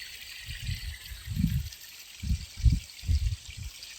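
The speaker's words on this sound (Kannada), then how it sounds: "ಚಾನಲ್ಲು ನೀರು ಹರಿತಾ ಇದೆ ಈ ಕಡೆನೂ ಹರಿತಾ ಇದೆ" Water flows through a farm irrigation channel in a rural field, gurgling in soft uneven surges over a steady hiss of background noise, faint and close.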